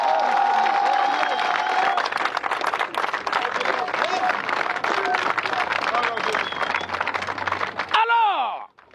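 A church congregation acclaims and applauds at a Christian gathering, dense clapping and voices filling the room at close range, with one voice audible at the start before the cheering ends abruptly near the close.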